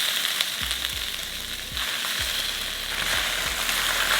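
Beef milanesa pieces fry with onions in a pan, a steady broadband sizzle with a few low thuds as the meat is set back into the pan, close and continuous with no talk.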